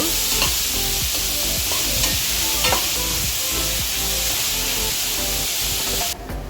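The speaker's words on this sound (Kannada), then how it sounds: "ಫೈನ್ ಚಾಪ್ ಮಾಡಿದ ಮೂರು ಈರುಳ್ಳಿ ಅನಿಯನ್ ಇದನ್ನು ಒಳ್ಳೆಯದು ಫ್ರೈ ಮಾಡಬೇಕು" Finely chopped onions fry in oil for fish cutlets, a steady dense sizzle with scattered crackles and stirring clatters, loud and close throughout, cutting off abruptly near the end.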